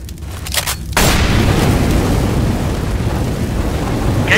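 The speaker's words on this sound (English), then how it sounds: "Grenade!" A loud, close grenade explosion in the video game Left 4 Dead 2 erupts as a sudden booming blast, then a dense roaring rumble sustains for several seconds with no talking.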